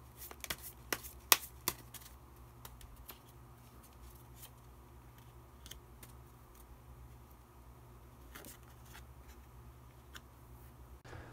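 Tarot cards are shuffled and drawn in a quiet room, heard as a cluster of crisp flicks and snaps at the start, then sparse faint clicks and card rustles over a low steady hum.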